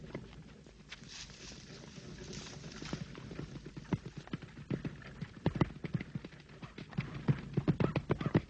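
A horse's hooves clip-clop in a steady, moderately close rhythm in a 1955 Scarlet Pimpernel period drama, with the horse being urged on, the clopping alone without talk.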